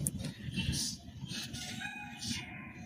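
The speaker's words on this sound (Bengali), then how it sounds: "এটা হচ্ছে গিয়ে আমাদের মোরগটা।" A desi rooster kept in a rooftop cage calls out in a short run of loud, close crowing and clucking over a faint background murmur.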